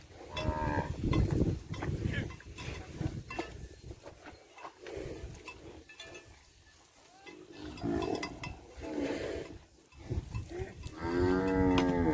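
Cattle in a herd moo repeatedly across an open field pasture, several long lowing calls near and far, loudest toward the end, with no talking.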